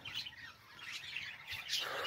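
Pet parrots chirp and squawk in short bright bursts on a sunny day in a village, fairly quiet and scattered with no voices.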